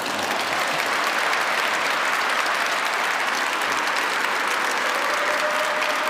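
An audience applauds after a lecture on parish pastoral councils and World Youth Day, loud, close and steady clapping that continues unbroken.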